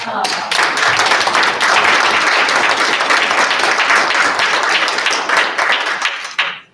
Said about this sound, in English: We'll ask for a round of applause for Lori.